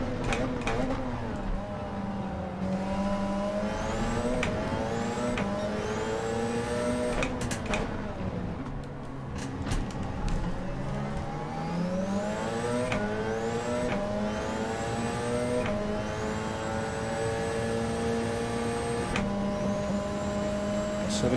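In Gran Turismo 7 at Circuit de la Sarthe, Le Mans, a Mazda 787B race car's engine whines continuously, pitch climbing and dropping through repeated gear shifts as it closes in. Someone talks over the steady engine drone.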